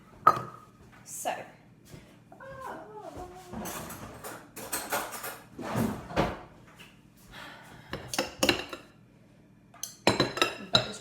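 A butter dish and utensils clink and knock in a home kitchen during lime pie preparation, with scattered close clatters, a drawer or cupboard sound, and speech in between.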